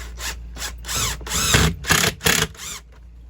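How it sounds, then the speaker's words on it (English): A power drill drives a screw into metal while an RV slide seal is being repaired, several short whirring bursts that rise and fall in pitch and stop and start, close and loud, with no voices. "now I'm going to put a screw in there"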